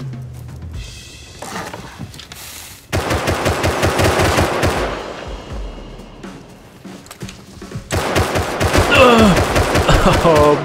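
An AK rifle fires in a video game, with loud, sustained automatic bursts of rapid shots broken by short pauses, close and dominant throughout.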